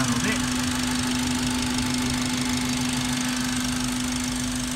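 A Honda Accord Euro R (CL7) engine idles steadily with a smooth, even hum and a low mechanical rumble, running continuously without revving.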